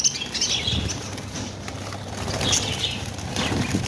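A lovebird chick being caught by hand flaps its wings in a rapid, close flutter that continues steadily for several seconds, with faint chirps from birds in the cage setup behind it.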